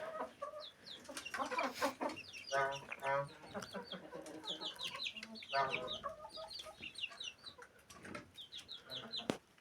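Chickens cluck and chatter in a coop where hens and chicks roost, a busy overlapping flock at close range with sharp calls and short squawks throughout.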